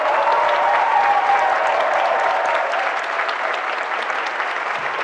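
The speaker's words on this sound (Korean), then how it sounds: "기립박수가 나오고 있네요" A seated-turned-standing audience gives a standing ovation at a Korean lecture on democracy, with sustained, even clapping from a large crowd that stays loud throughout and tapers only slightly toward the end.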